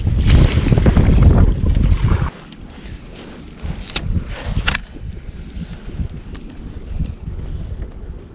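Gusty wind buffets the microphone while fishing for bass and crappie from a small boat in early spring, a heavy roar for the first two seconds, then lighter rumbling gusts with faint knocks.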